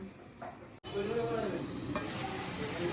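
Vegetable curry with turmeric sizzles loudly in a pan as it is stirred, a dense close frying hiss with scraping after a brief quieter start.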